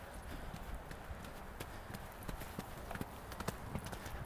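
A horse's hooves clip-clop during riding training at a ground-breaking session, a run of crisp, fairly close, rhythmic strikes over a quiet outdoor background, with faint speech in places.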